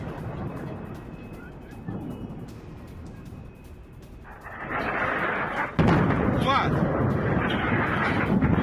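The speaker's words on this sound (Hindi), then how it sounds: "कई जगहों पर जोरदार धमाके की आवाज आ रही है" Heavy rumbling blasts and crackling booms from bombing in Iran, heard from a distance, growing louder and denser partway through, with a sharp loud burst near the end.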